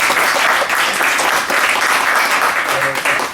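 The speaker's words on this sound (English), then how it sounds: "Strong clapping helps to wake up, because some people are sleeping, so if we make noise, they're going to wake up" Strong, loud audience clapping closes a round-table talk on demographics and politics, a thick, continuous burst of many hands heard close.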